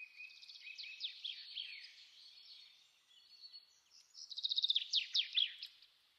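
Red-vented bulbuls give quick, bright chirps and twittering calls from a short distance away. The calls are faint and bunch into busier bursts toward the end, with no voices.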